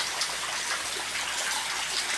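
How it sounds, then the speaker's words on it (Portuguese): A steady downpour in Itapipoca, Ceará, the rain hissing evenly and densely throughout, with no talking over it. "Nossa, chuva mesmo."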